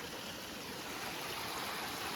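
Steady, dense rush of water from a mountain waterfall, a continuous even roar with no breaks and no voices.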